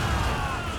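Ship cannons fire in a naval battle in the video game Assassin's Creed Rogue, a loud, dense broadside of booming blasts and rumble that fills the whole brief moment.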